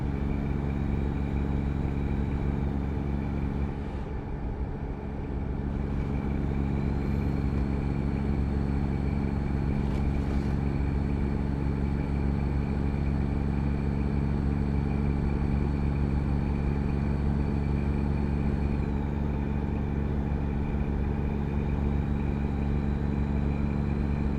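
Simulated truck engine in American Truck Simulator, a steady low droning hum that runs continuously at constant loudness, with a brief dip in level partway through and no talking.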